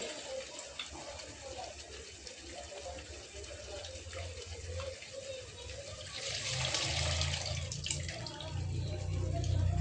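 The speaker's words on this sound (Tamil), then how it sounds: "நல்லா புளியும் கரைச்சி ஊற்றிடலாம்" Tamarind water poured into a boiling chili curry pot, a continuous splashing pour over bubbling liquid that swells louder toward the end.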